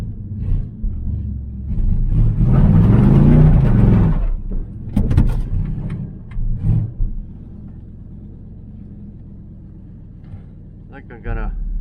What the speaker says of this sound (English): glass packs. Sounds like a muscle car.